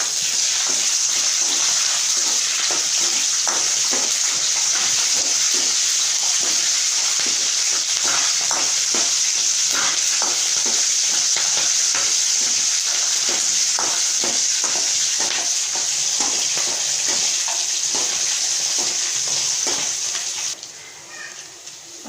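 Garlic and green chilies sizzle and fry in a pan for lemon rice, a steady bright hiss with scattered crackles and stirring scrapes that continues evenly before the sizzle abruptly drops near the end.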